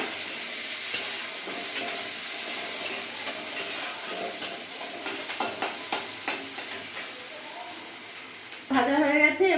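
Raw onion frying in tempering oil, a steady crackling sizzle with rhythmic stirring scrapes, then a sudden louder burst of hissing near the end, heard alone and close.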